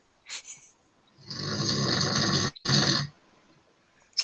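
A man snoring close by, two long rasping, wood-sawing breaths with a brief gap between them, preceded by a short snort.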